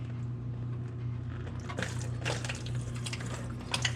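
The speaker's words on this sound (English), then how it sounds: "That's water." Water drains from an abandoned 1954 International R120 farm truck parked for 27 years, a steady trickle into a pan with a few splashy bursts and glugs, close and moderately loud, with no talking.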